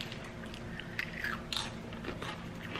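Crisp, close crunching and chewing of spicy Philippine snack chips similar to Fritos, with several distinct bites and soft mastication over a quiet background.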